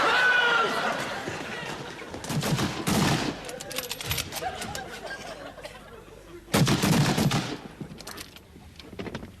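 Rifles firing at a military firing range, two dense bursts of overlapping shots, loud and close, separated by quieter stretches of shouted orders and murmuring voices.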